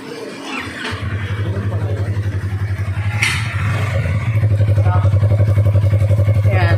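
Stock-exhaust Yamaha R3 V2 twin-cylinder motorcycle starting up and settling into a close, loud, steady idle with a pulsing low throb, briefly blipped before holding a slightly higher idle.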